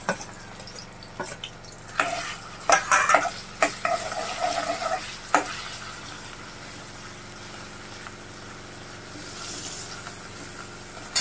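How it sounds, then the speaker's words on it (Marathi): Ground onion and coconut fry in hot oil for a dry mutton masala, making a continuous sizzle broken by several sharp stirring scrapes and clatters early on, then settling into a quieter, even hiss. "कांदा तळला गेला"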